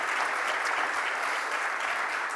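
A conference audience applauds its panelists, a steady dense wash of clapping from many hands throughout, fairly even in loudness, with no voices over it.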